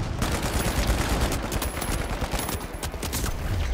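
Rapid gunfire in the competitive shooter The Finals, a dense continuous barrage of close, loud shots filling the whole stretch with almost no gaps.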